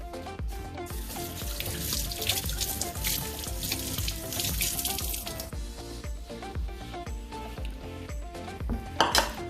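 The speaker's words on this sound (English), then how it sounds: "Wash my hands." Hands washed under a running kitchen sink tap while cooking, with a steady close hiss of flowing water and clinks of dishes and cutlery, no talk.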